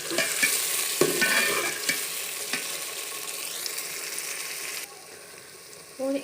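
Pulao masala with ginger-garlic paste and green chillies is stirred and mixed in a frying pan, steady sizzle under repeated scraping strokes of the spoon, close and fairly loud, with the sizzle dropping near the end.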